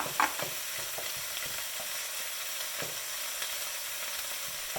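Garlic sautéing in a hot pan alongside kale stems and carrots gives a steady, close sizzle, with a few light stirring taps and scrapes near the start and scattered through.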